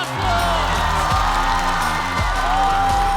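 A studio audience at a stand-up comedy competition applauds and cheers loudly and continuously, with a dense wash of crowd noise over a driving musical beat.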